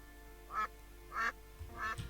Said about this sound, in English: Oh, the mutated duck is still around.